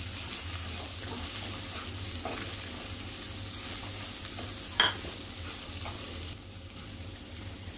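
Soya chunks masala with home-made koli masala and coriander powder is stirred in a hot pan. A steady close sizzle runs throughout with soft spoon scrapes and one sharp clink of utensil on pan, and nobody talks.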